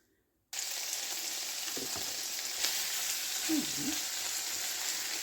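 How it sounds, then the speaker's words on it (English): Tomatoes sizzle steadily in a hot pan, a continuous close frying hiss broken by a couple of soft utensil taps. "So I'm just going to cook that for a few minutes to soften up the tomatoes"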